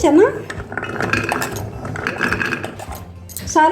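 Dry chickpeas clatter and rattle into a metal pressure cooker, a busy scattering of small hard impacts under a voice speaking.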